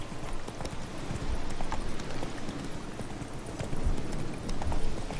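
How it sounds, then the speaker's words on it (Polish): Galloping hooves drum in The Witcher 3 as a horse carries its rider along a road, a continuous rapid beat with a few heavier thuds, moderately loud and mostly free of talk. "Gdzie nas koń poniesie."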